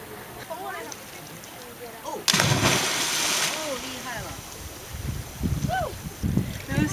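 Someone jumps off a small cliff into clear sea water in Phuket, Thailand, making one loud, sudden splash that rushes for about a second amid wind noise, while people talk and exclaim nearby before and after.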